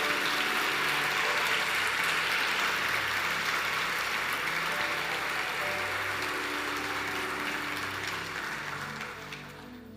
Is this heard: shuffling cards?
no